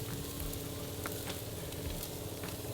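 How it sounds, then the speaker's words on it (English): Steady crackling sizzle of a pork chop frying in a hot pan, continuous and close, with a few brief sharper pops. "Let's see if we can get a little sizzle dance on there."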